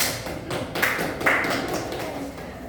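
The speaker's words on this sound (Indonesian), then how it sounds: "Beri aplaus kepada Topik." Short classroom applause for a student, a brief patter of claps and taps lasting a couple of seconds in a small room.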